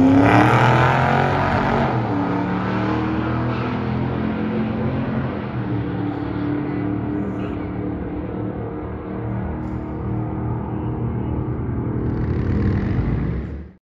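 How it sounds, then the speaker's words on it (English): LS1-powered car and a Chevrolet Nova street car drag racing at a Las Vegas track at night: loud sustained engine roar that builds, holds steady, then fades and swells again near the end, with no talk. "So here is an LS1 and a Nova."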